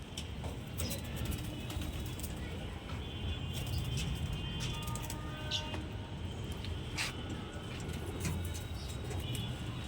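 Pigeons kept at a loft for sale coo low and steady throughout, a soft continuous murmur with faint chirps and distant traffic noise mixed in.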